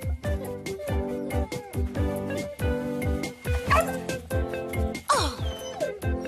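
A cartoon dog yips and barks in a quick, steady run of short, sharp calls over background music, with a few whimpering sounds near the end.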